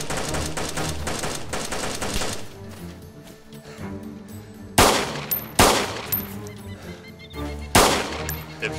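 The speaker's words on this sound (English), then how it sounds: "Wait, no, they're still shooting." Gunfire in the video game DayZ Standalone: rapid bursts of automatic fire at first, then after a pause several loud, sharp single shots with ringing decay, spaced a second or so apart.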